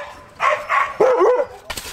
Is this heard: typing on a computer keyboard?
no